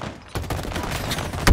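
Rapid pistol shots in a first-person shooter free-for-all, a quick dense burst of loud cracks lasting about a second.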